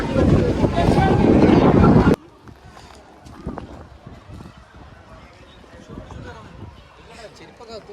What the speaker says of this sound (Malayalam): പക്ഷെ നല്ല കാറ്റുണ്ട് ഗൈസ്, നല്ല കാറ്റുണ്ട്